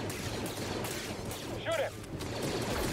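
Blaster gunfire rattles in dense bursts during a battle on the planet Kashyyyk in Star Wars Jedi: Fallen Order, loud and continuous with a brief whistling whoosh in the middle.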